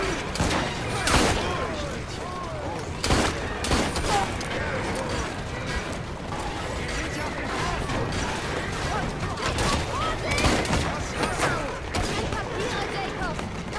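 Pistol gunfire in the video game Assassin's Creed Syndicate, several sharp shots spaced apart over a busy backdrop of clattering mechanisms and game action, with a voice talking through it.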